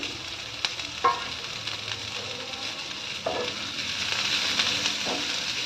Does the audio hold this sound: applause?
no